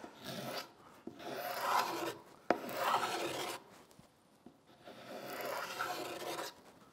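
Hand filing or rasping a decorative quarter-inch, 45-degree chamfer along wooden parts of a sack-back Windsor chair, heard as three or four long, close rasping strokes separated by short pauses.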